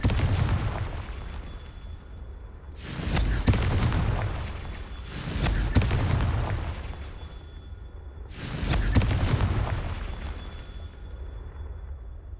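Three heavy blasting explosions from the Confringo spell in Hogwarts Legacy, each a loud booming burst that rolls off over a couple of seconds, spaced a few seconds apart over a steady background rumble.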